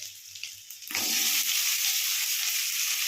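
Chopped onions land in hot oil in a pan and set off a sudden loud, steady sizzle that carries on unbroken after a quieter opening.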